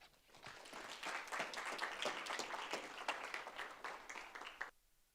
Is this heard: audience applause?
yes